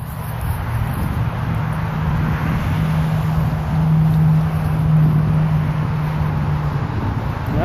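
Steady road traffic rumbles past on a rain-wet street, a continuous low engine drone with tire hiss that swells slightly midway, moderately loud and without talk.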